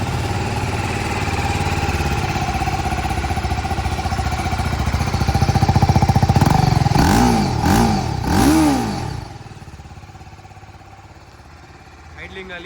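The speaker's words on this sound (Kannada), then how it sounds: "ಐಡ್ಲಿಂಗಲ್ಲಿ ಈ ಥರ ಸೌಂಡ್ ಬರುತ್ತೆ ಈ ಗಾಡಿ." A TVS Apache RTR 310 motorcycle idles nearby, its exhaust giving a steady low throbbing note with a few brief blips midway before settling back to a quieter idle.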